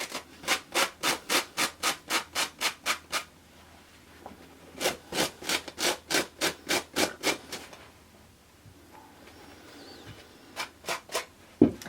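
Denim is distressed by rubbing an abrasive over it in two runs of quick, even back-and-forth strokes, about ten in each run, close and alone, with a quiet gap between them and a few scattered strokes near the end.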